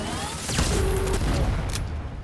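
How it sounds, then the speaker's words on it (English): Light machine gun fire in a first-person shooter video game, a dense, loud burst of gunfire running through most of the two seconds, with booming impacts and mechanical clatter mixed in. "I've got a light machine gun."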